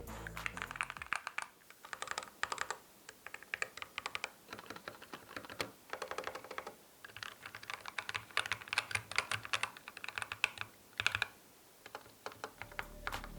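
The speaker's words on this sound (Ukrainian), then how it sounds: "До речі, ось так звучить тайпінг на цій клавіатурі." Typing on a Logitech G Pro X TKL Rapid magnetic-analog keyboard, brisk continuous clacking in bursts with short pauses, close and clear with no talking.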